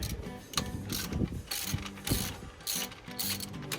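Frame slider bolts being loosened on a Suzuki GSX1300R Hayabusa with a ratchet: repeated close bursts of quick metallic pawl clicking, separated by short pauses, with no speech.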